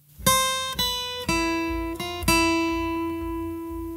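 A lone guitar plays the lead riff of a song, about five plucked notes in a slow phrase, each ringing clearly and decaying, loud and close with nothing else heard.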